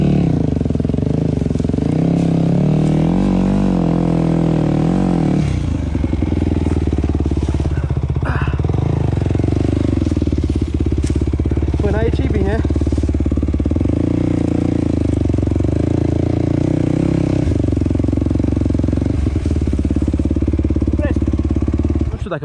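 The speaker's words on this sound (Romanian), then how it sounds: "Ți-e mai mare dragul să ieși cu motorul." An enduro motorcycle engine runs close by, idling with a rough throaty note and rising in brief revs, with clattering mechanical sounds and people talking over it.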